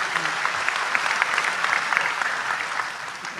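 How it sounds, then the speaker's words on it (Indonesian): Audience at an Islamic religious study gathering applauding a committee member, a dense, even burst of many hands clapping at once, sustained and fairly loud, easing slightly toward the end with no talk over it. "Tepuk tangan untuk beliau."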